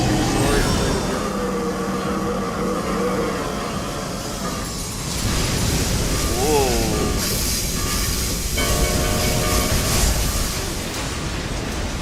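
A train rushes through a Final Fantasy XIV encounter, a loud, rumbling, metallic roar with screeching tones that swells and shifts, mixed with game effects and voices.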